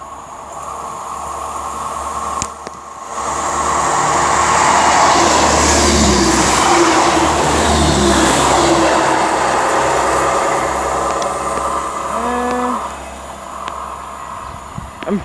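A train passes on the West Coast Main Line at Marston Green, its loud rumble swelling in after a few seconds, holding steady, then easing off, with a brief tonal squeal near the end.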